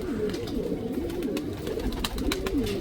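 Several old racing pigeons coo on a rooftop loft, their low warbling calls rolling continuously and fairly close, with rustling in the background and no talk.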